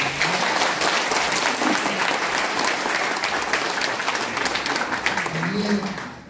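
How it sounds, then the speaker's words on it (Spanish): An audience at a public event with a mayor and regional governor breaks into loud, sustained applause, dense clapping filling the room with a few voices and shouts mixed in. "eso merece un aplauso"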